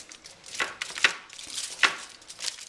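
A knife slices through a home-baked apple strudel, made with sugar-sprinkled dough baked on foil, giving a few soft crunchy cuts and crackles of the crust up close, with no talking.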